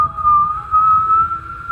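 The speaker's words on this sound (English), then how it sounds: "it sounds more like a sound of something flying through the sky at very breakneck paces" A strange, steady whistle, as of something flying through the sky at breakneck speed, holds a wavering high tone for nearly two seconds, loud and alone over a low rumble, in a tabletop role-playing game session.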